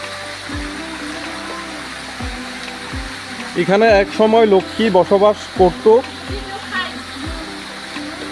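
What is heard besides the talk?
water falling at the Lakshmi waterfall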